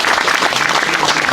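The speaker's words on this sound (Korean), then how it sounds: "박수를 한번 보내주시면 고맙겠습니다." Sustained audience applause at a Korean commemorative gathering honoring Syngman Rhee, dense steady clapping filling the whole moment without pause.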